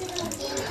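Tap water runs steadily into a basin while a pet cat is being bathed, a close splashing stream with some faint background voices.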